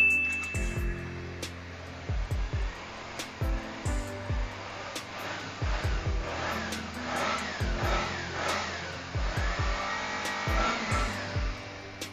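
A motorcycle engine idles and revs in repeated short bursts, a close mechanical drone rising and falling with no voices.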